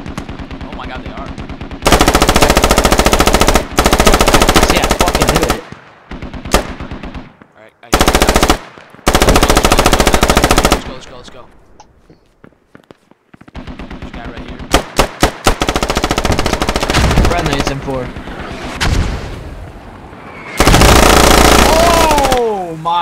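Gunfire in the military shooter game Squad: loud, sustained automatic bursts alternate with short gaps and scattered single shots, close and dominating throughout.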